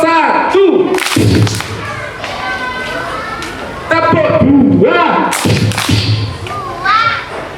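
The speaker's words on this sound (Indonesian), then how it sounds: "Keras banget tepuknya." Children at an elementary school clap loudly in bursts with noisy chatter and shouting, the claps landing as sharp thuds amid lively crowd noise.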